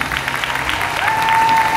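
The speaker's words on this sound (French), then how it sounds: "on vous applaudit bien fort" Loud crowd applause at a manga convention panel, thanking the guests on stage; dense continuous clapping with a faint tone running underneath.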